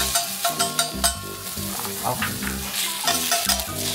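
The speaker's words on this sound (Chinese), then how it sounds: "你再帮我配一点那个烤盘在煎的声音" Shrimp sizzle and fry on a hot griddle pan at a campsite, a bright continuous crackle over rhythmic music, with a single short spoken word.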